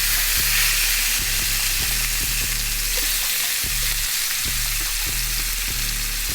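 Oxtail meat sizzles loudly and steadily in a hot pan, a continuous frying hiss with regular scraping or stirring knocks throughout and no talking.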